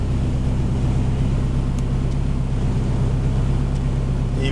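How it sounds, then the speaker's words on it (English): A SAAB 9-5 Aero RWD engine idles smoothly but lower than it should, a steady close low rumble throughout with no speech. "Even though it's running smooth on idle, this is definitely not how it's supposed to be."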